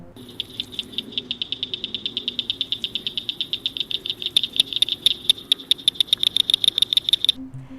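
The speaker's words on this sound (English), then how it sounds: "This tiny frog has quite a loud call, so let's have a listen to what they actually sound like" A northern cricket frog calls in a rapid series of sharp, high clicks like pebbles tapped together, steady and loud, quickening slightly toward the end, with a faint background hum.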